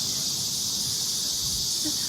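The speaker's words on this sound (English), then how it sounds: "cicadas are so loud." Loud, continuous cicada buzzing fills the air in Korea, a high steady drone that never lets up.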